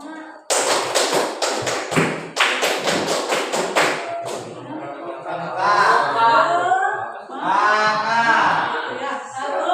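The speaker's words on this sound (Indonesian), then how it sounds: "tepuk semangat" Group of people doing the tepuk semangat, a rhythmic spirit clap, in a classroom session: several sharp, loud clap bursts in quick patterned sequence at the start, followed by voices talking and chanting.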